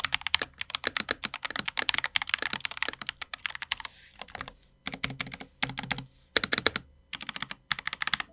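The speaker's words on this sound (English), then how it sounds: "Let's run a typing test real quick." Brisk typing on a keyboard with XVX Matcha PBT keycaps in close bursts, crisp clacky keystrokes tumbling quickly with short pauses between runs.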